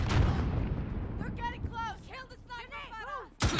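In Call of Duty: Modern Warfare, an RPG rocket fires with a heavy, close boom at the start. Shouting voices follow, and a second sharp blast bursts at the very end.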